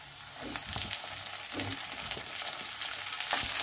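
Ridge gourd tipped into onions frying in oil and stirred, giving a steady close sizzle broken by scraping, clattering stirs.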